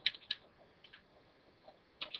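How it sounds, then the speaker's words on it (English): Light key taps on a computer keyboard come in a few quiet, scattered clicks, with a small cluster of quick strokes near the end. "So I'm going to type love to help"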